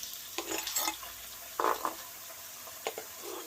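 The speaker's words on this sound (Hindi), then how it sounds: "अब हम इसमें टमाटर डाल देते हैं।" Tomatoes go into a pan for a salmon fish curry and are stirred, giving a soft sizzle with a few brief scraping stirs, close and fairly quiet.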